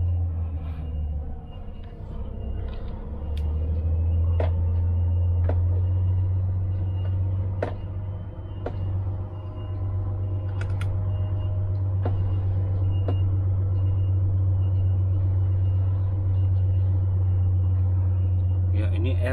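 A Volvo FH16 550 HP 2021 truck maneuvering back and forth inside a narrow warehouse, its steady low diesel rumble running throughout with occasional clicks, while someone talks over it.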